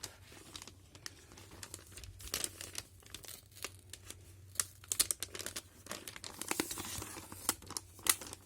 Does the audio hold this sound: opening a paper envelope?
yes